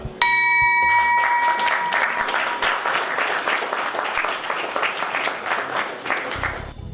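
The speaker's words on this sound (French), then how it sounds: "La traditionnelle cloche d'entrée en bourse retentit sous des acclamations." The traditional listing bell rings out briefly at a stock exchange debut for Coris Bank International, immediately swallowed by loud, sustained applause and cheering from the crowd on the trading floor.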